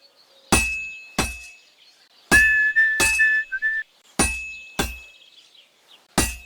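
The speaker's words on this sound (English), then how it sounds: "Now take the hammer and try hitting it a few times." A blacksmith's hammer striking a sword on an anvil in the game Kingdom Come Deliverance II, with sharp, bright metallic clangs at uneven intervals that ring briefly. A whistling tone runs under a few of the strikes.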